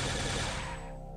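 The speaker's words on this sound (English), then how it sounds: "I'm going to shoot him in the eyes" A single loud gunshot in the Fallout video game, a close, sharp burst that decays over about a second.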